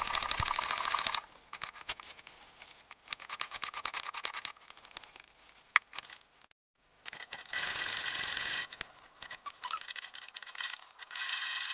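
A sewing machine stitches the back seam of a handmade leather apron loafer, sounding as rapid mechanical rattling runs in bursts with a short silent pause midway, close and loud.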